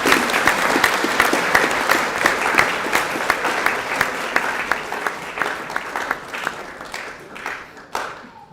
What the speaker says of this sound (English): Round of applause for our badminton team.